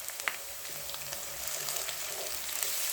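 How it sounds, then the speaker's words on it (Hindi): Garlic-ginger paste frying in a pan with browned onions, giving a steady, close sizzle with soft crackles that holds evenly for the whole stretch, with no talking. "अब हम इसमें डाल देंगे 1 टेबल स्पून लहसुन अदरक का पेस्ट"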